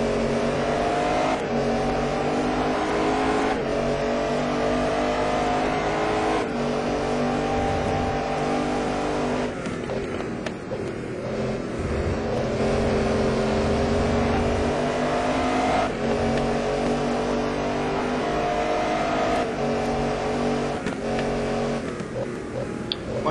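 GT Pro race cars in a racing video game lap the Donington circuit, their engines droning loudly and continuously, pitch rising and falling with gear changes as cars rev and pass close by.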